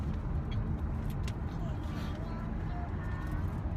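A car drives slowly in a traffic jam, a low steady rumble of engine and road noise from inside the cabin, while people talk over it.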